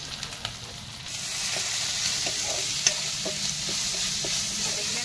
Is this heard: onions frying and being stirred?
yes